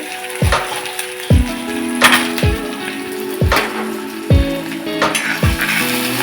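Mustard seeds crackle and pop sharply in hot oil, sharp bursts recurring roughly every second over a steady sizzle.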